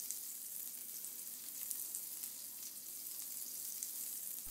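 Rump steak sizzles in a frying pan, a steady, even hiss of spitting fat that holds at a constant level from start to finish without any talk.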